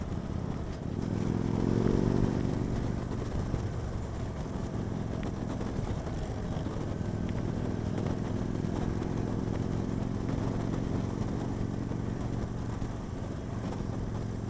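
A Victory Vegas 8Ball cruiser motorcycle rides along at a steady pace, its low engine drone continuous and fairly close, with a slight swell early on and constant wind and road noise throughout.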